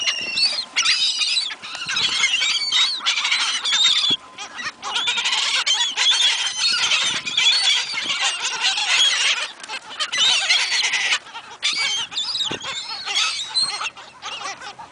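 Seagulls being fed at a shore squawk and cry repeatedly in overlapping, close, loud calls, a dense flock chorus with brief gaps and faint background noise.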